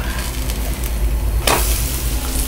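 A slice of bread coated in besan (gram flour) batter fries on a pan, giving a steady broadband sizzle with one brief louder crackling burst midway and no voices.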